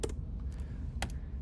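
Keystrokes on a computer keyboard during architectural computer graphics work, a few sharp clicks near the start and a cluster around the one-second mark over a low steady hum, close and moderately quiet.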